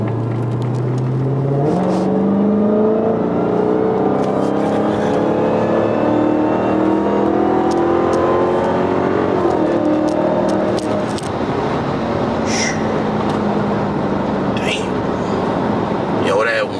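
Dodge Charger Hellcat accelerating hard on a highway, the supercharger whine and engine note climbing in rising sweeps through the gears, loud and close from inside the car, with people talking over it.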